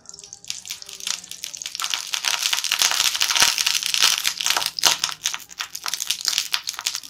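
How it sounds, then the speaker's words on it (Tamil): Oil poured into a cooking pan while making spicy macaroni gives a loud, close, crackling sizzle, with dense spitting pops and splashy hiss throughout. "எண்ணெய் ஊற்றிக்குவோம்."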